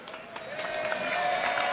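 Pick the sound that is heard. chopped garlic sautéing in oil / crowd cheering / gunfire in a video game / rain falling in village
crowd cheering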